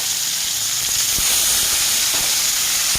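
Ground onion paste hits hot mustard oil left from frying fish, with bay leaf already browning, and gives a loud, steady, close hissing sizzle throughout.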